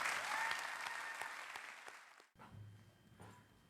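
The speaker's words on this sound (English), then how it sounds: "give them a round of applause" Audience applause at a county sheriff's awards ceremony, a lively burst of clapping that fades, stops briefly, then returns as a softer scattered patter.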